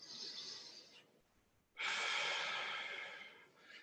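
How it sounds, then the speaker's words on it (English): Deep breaths during a post-workout stretch: a long exhale, a brief pause, then a loud, close inhale-exhale that fades before another breath starts, with no talking. "3 big deep breaths"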